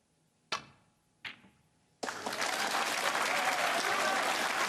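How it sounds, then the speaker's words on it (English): Snooker crowd at a Scottish Open semifinal breaks into loud, sustained cheering and applause after a potted ball, following two sharp clicks of balls on the table in a quiet hall. "listen to the cheer he got for knocking that one in"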